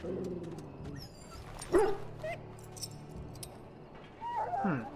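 A sick dog in the video game Dragon Age: Origins whimpers and gives short yelps and barks. The cries come in brief bursts over a quiet game backdrop, with small clinks and a louder cluster near the end.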